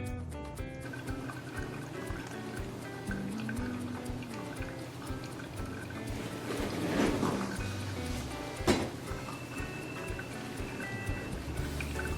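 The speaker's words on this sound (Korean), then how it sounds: "추출이 완료되면 커피를 잔에 부어 한 모금 마셔보세요" Freshly brewed pour-over coffee poured from a server into a cup, a soft trickling stream with faint drips and a brief louder splash near the end, quiet and close with no talking.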